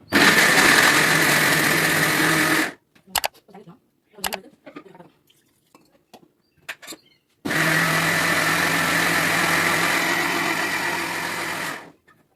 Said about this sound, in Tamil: நான் இப்போ இதை வந்து கிரைண்ட் பண்ணி எடுத்துகிட்டு வரேன்